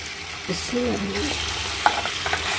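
Vegetable pieces fry in oil in a non-stick kadai, a steady close sizzle with a few soft stirring scrapes and a sharp clink, while a voice murmurs faintly in the background.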